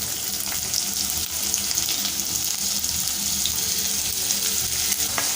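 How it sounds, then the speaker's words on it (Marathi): Loud, continuous sizzling of the white part of spring onions frying in hot oil for a Malvani-style spring onion bhaji, close and steady throughout with no talking. "आपल्या इकडे तेल छान गरम झालेलं आहे। आपण जो व्हाईट पार्ट बाजूला काढून ठेवला आहे तो टाकूया आपण।"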